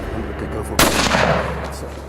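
A single loud rifle shot cracks close by at a buffalo on a South African safari, one sharp blast with a long rumbling echo that fades away over steady outdoor background noise.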